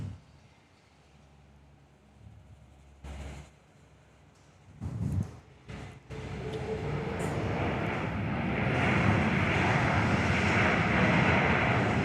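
A Qantas A330 airliner comes in to land at Perth, its engine roar swelling from faint to a loud, broad wash over the last half, after scattered low thumps and bursts of noise near the start.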